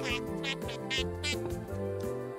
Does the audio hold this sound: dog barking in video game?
no